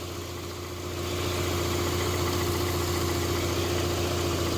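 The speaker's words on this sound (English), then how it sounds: "So I'm going to give you a nice listen to the engine." A Subaru Forester 2.5 engine idles steadily with a smooth, even hum and a constant low drone, close and loud throughout, with no voices.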